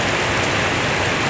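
Steady rain falls outdoors in a cool breeze, a dense, loud, continuous hiss of drops with no voices.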